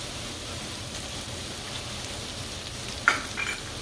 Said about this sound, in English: Now I'm going to add some butter to this. I'm going to add about two tablespoons of butter.